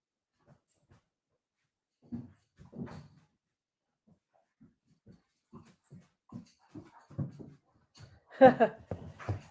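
Six-month-old Great Pyrenees puppy playing tug of war with a rope toy, scattered soft growls, grunts and whimpers in short bursts, building to a louder flurry near the end.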